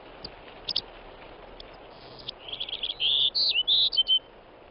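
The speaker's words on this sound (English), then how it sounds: "The increasingly rare golden-cheeked warbler is said to nest nowhere else in the world but" A golden-cheeked warbler sings in Texas hill country cedar habitat: a few faint chirps, then a rising series of clear, high buzzy notes, bright and fairly near against a quiet background.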